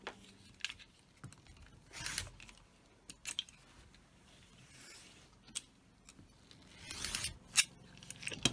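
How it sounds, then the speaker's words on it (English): Flying geese quilt blocks trimmed along their fabric edges: a handful of crisp, close snips and clicks scattered through the stretch, separated by quiet pauses. "I'm going to trim the right side and the top"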